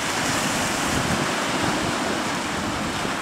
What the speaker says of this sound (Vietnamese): Coi nó vượt sóng nha.